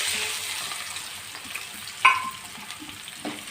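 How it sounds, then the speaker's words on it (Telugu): Onion fries in oil in a kadai with dried red chillies and curry leaves. The sizzle is steady and close, with a sharp clatter of stirring partway through and another light knock near the end. "ఉల్లిపాయ వేగుతుంది, కొంచెం కరివేపాకు, ఇంకొంచెం ఫ్రై అవ్వాలి"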